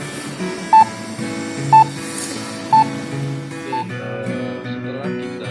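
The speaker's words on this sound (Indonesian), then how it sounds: "Jika sudah berbunyi beep, berarti tandanya alat sudah merecord." A GNSS survey receiver, set up for a static differential survey, gives three short, clear beeps about a second apart as recording starts, over a steady background hum with some faint voices.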